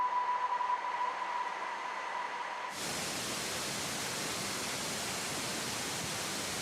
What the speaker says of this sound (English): if you look at a dead cell, for instance, you will effectively hear something like a white noise, like shh